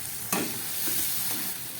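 Masala paste with turmeric and salt fries in oil for a pond crab curry, giving a soft, steady sizzle broken by a few quick spatula scrapes and stirs in the pan, with no voices.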